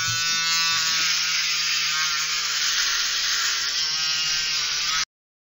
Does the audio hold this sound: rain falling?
no